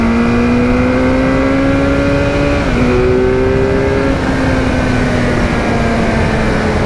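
New Kawasaki Z900 motorcycle engine pulling hard on a city road, a loud close steady drone that climbs in pitch, dips briefly at a gear change, then rises again amid heavy wind rush.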